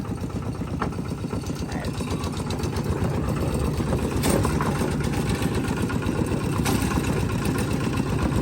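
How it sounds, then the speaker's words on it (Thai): A Kubota diesel tractor engine idles steadily nearby, a loud continuous low chugging rumble with a constant rhythmic throb. "รถไถ"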